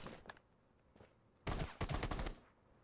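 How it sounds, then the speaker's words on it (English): Gunfire in the shooter game Rules of Survival: a couple of faint early shots, then a dense rapid burst of automatic fire lasting about a second, heard alone without voices. "Yeah, he's shooting at me."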